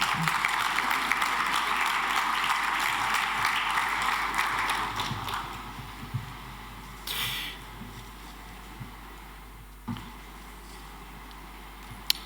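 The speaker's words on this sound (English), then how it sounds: "A big hand of applause for him, please." Audience applause at a youth employment forum, heard as dense clapping that fades over several seconds into a quieter hall with a few scattered knocks and rustles.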